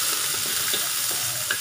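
Ginger and chilli fry in a hot pan for a chicken and Chinese cucumber soup, a steady close sizzle with faint stirring scrapes and no voices.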